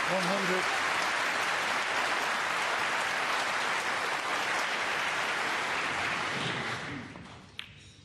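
Indoor crowd at a London snooker Masters match applauds a century break, a sustained, full round of clapping that holds steady and then fades away near the end.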